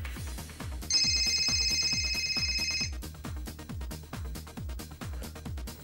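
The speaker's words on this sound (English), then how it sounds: "let us test the ring feature" A phone plays a ringtone set off remotely by a ringer app, a bright repeating electronic tone that rings for about two seconds over a steady, pulsing background beat.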